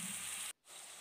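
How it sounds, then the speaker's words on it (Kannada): Prawns sizzle steadily in hot oil, a dense close hiss that cuts out briefly halfway through and then resumes at a slightly lower level. "ಹೀಗೆ ಇದು ಸ್ವಲ್ಪ ಫ್ರೈ ಆಗಬೇಕು, ಒಂದು ಸೈಡ್ ಫ್ರೈ ಆಗಲಿ."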